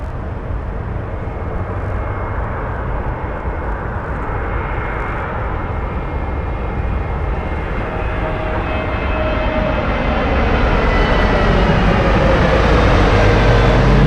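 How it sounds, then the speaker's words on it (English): A Horizon Air airliner takes off from runway 1 right at Las Vegas Harry Reid International Airport, its jet engine roar steady at first and then swelling louder and brighter as it spools up and accelerates, heard continuously from a distance without talk. "Horizon Air 2199 Las Vegas Tower, runway 1 right, go to takeoff."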